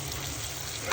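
Hilsa fish and taro sauté in a covered pan, a brief, steady low sizzle and hiss heard close, with a slight bump right at the end.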